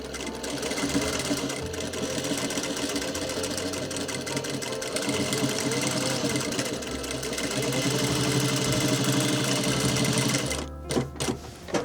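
A sewing machine stitches along a dungaree chest pocket in one long continuous loud run, motor humming evenly until it slows and stops near the end with a few clicks.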